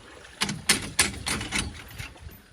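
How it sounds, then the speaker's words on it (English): Several sharp knocks on the hard metal and wooden fittings of an old AMF Alcort Puffer sailboat, struck in an uneven rhythm, close by and fairly loud. "Sometimes you gotta give it a knock."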